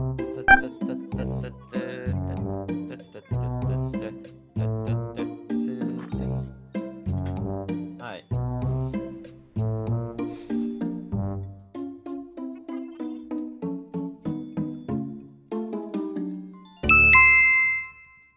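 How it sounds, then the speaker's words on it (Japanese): Five o'clock chime in Animal Crossing: New Horizons rings out as a bright, melodic run of clear ding notes in a steady rhythm, ending with one louder sustained tone. "今、チャイムが鳴りましたね"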